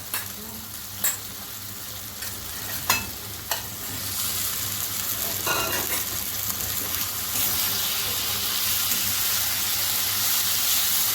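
Katla fish frying in a pan for korma, a steady close sizzle that swells louder after the fish goes in, with a few utensil clinks early on.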